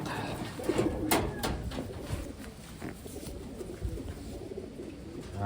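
Taiwan pigeons coo in low, soft bursts at close range, with someone talking intermittently over them.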